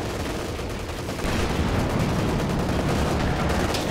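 Dense battlefield gunfire and artillery-style bursts in a Company of Heroes 2 match, a steady noisy barrage of rapid shots and booms that grows slightly louder partway through, with no talk.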